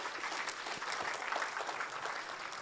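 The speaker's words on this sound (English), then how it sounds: "the biggest round of applause goes to all of you here" An audience applauds steadily in a hall, the clapping fairly faint and even throughout.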